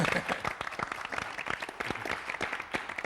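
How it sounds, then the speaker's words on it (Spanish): A crowd applauding steadily, many hands clapping in a dense, continuous patter throughout. "Vamos a darle un aplauso, por favor"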